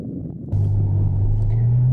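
A 2014 Ferrari F12 Berlinetta with a front-mounted V12 gives off a deep, close engine rumble that swells into a steady, slightly rising drone.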